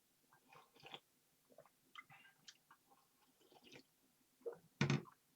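Someone eats Vifon pho bo beef instant noodle soup up close, with soft chewing and slurping, scattered mouth clicks and a louder slurp near the end.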